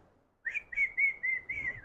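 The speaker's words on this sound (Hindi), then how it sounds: "पहले होंठ को गोल कर लो सब, सीटी बजाते ना अपन" A person whistles with rounded lips in a school classroom session, a short run of five or six clear, close, bird-like notes after a brief silence.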